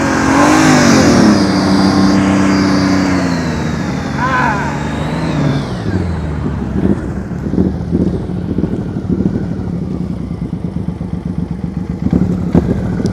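A motorcycle engine idles and revs lightly during slow-speed riding practice, loud wind buffeting at first, then a steady low engine hum with clutch-driven pulses, and an instructor talks over it.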